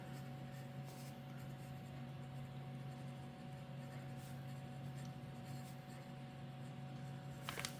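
A fountain pen loaded with green ink scratches softly across plain copy paper, a faint, continuous scratching close to the ear over a low steady hum, with no one speaking.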